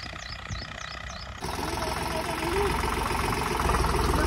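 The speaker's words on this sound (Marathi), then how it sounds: "काय ट्रॅक्टरचा आवाज." A tractor engine runs in a farm field during sowing, a loud, steady rumbling drone that jumps up in level partway through and then holds a constant throbbing roar.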